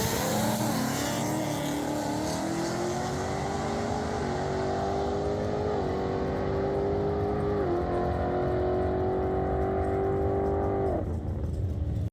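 Race car engine on a track, a loud, continuous drone that climbs in pitch with small shift dips, holds high, then cuts off abruptly at the end, with no speech.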